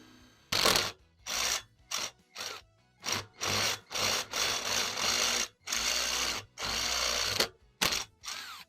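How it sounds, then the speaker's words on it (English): Short bursts of a step drill grinding into the metal fork of a retro GT mountain bike, starting and stopping repeatedly in uneven pulses, close by with no talking. "We know where we've got to go with the step drill. So let's see if we can drill another."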